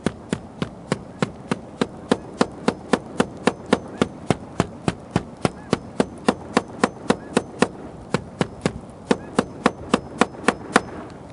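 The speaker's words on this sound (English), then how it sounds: "I usually use a hammer to find it." Steady, evenly spaced hammer taps on a roof ring out one after another, sharp and close, continuing in a regular rhythm throughout, while locating a roof joist for an HDTV antenna installation.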